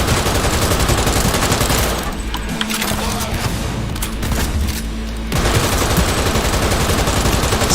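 Rapid, dense automatic gunfire from the Cyberpunk 2077 video game rattles loudly, thins out into sparser shots for a few seconds, then erupts again into continuous bursts.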